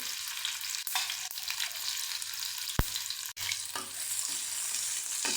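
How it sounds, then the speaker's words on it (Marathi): Garlic cloves, green chillies and ginger, coarsely pounded, fry in a pan with a steady, even sizzle and a couple of sharp utensil taps, no voices. "लसूण आपण चांगलं भाजून घ्यायचा"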